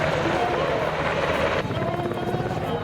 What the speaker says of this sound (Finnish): UH-60J on pitkän kantaman pelastushelikopteri.